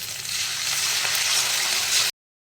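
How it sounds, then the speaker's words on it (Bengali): Ginger garlic paste hits a pan of mushrooms and tomato for a mushroom masala, a steady broadband sizzle that swells slightly and then stops abruptly, with no speech. "আদা রসুনের যে পেস্টটা করে দিচ্ছিলাম ওইটা আমি দিয়ে দিলাম"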